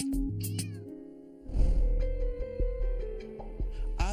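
Domestic cats meowing, several drawn-out, pitch-bending cries one after another, close and clear, with a louder, harsher burst of mewing and caterwauling in the second half.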